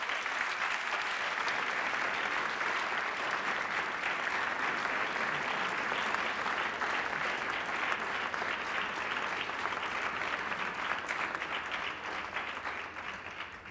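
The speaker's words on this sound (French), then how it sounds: "nous les saluons et nous les applaudissons" Sustained applause from an audience at a student award ceremony, steady and fairly even for over thirteen seconds and easing slightly at the end, with no talking over it.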